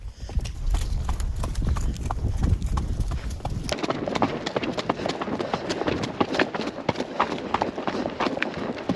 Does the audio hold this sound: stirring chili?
no